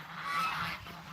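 Geese honk loudly and nearly nonstop on a mountain farm beside a pond, a close, harsh chorus of overlapping calls with no talking.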